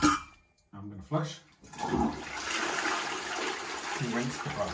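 A household toilet flushes after a brief spoken word, a loud rushing surge of water that holds steady for about three seconds before a gurgling refill begins.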